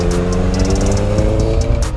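A Honda CBR650R inline four-cylinder motorcycle with a Two Brothers aftermarket exhaust gives a steady, loud, close engine growl with a sustained low droning hum and no talk over it.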